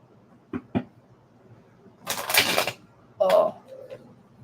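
A deck of tarot cards is shuffled in a brief papery riffle burst, framed by a few light taps and clicks and a later knock, heard close and fairly loud.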